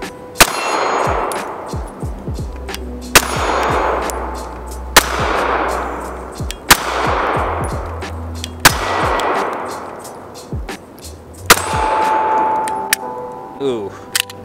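Walther PPS M2 pistol fired outdoors: seven sharp, loud shots at a slow, steady pace roughly every one to two seconds, each followed by a decaying echo and a metallic ring, with faint brass clinks between.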